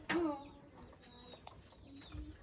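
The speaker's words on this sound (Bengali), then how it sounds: "মুরগিগুলো জমবে" Chickens cluck in a small village yard in the Andaman Islands, a loud close squawk at the start followed by softer scattered clucks and calls.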